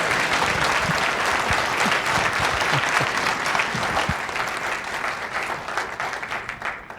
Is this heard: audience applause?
yes